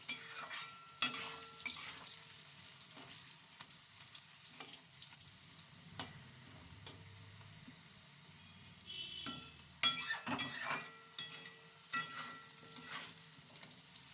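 Potatoes fry quietly in a pan for a fish curry with eggplant, a soft continuous sizzle broken by occasional scraping stirs and light clinks of a utensil against the pan.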